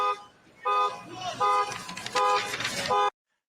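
A car alarm blares in loud, repeating tonal bursts on a New York street during a press conference, cutting off abruptly at the end.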